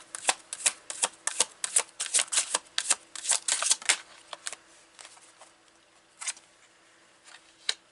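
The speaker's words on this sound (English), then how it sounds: "So, let's pull another card. I like to pull more cards with the Tower." Tarot cards being shuffled and drawn by hand, a rapid run of crisp riffling snaps that thins out into a few scattered slaps of single cards, close and clear with no talking.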